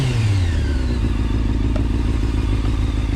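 A 2004 Honda CBR 600 F4i sport bike's engine running close and loud, a rough, steady growl with a brief falling rev at the start and faint crackle.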